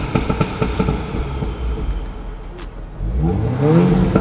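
A 2016 Audi S3 8V fitted with a downpipe and tuned for pops and bangs fires a rapid series of sharp exhaust cracks over engine rumble, then revs up with a rising engine note, loud and close.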